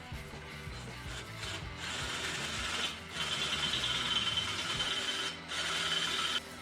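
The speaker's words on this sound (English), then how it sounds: "I have to drill the holes out just a speck bigger for the handlebar risers to fit" A drill with a 5/16 bit bores out handlebar riser holes on a Rascal Lite minibike, a steady whirring grind in several bursts separated by brief pauses, close by with no talking.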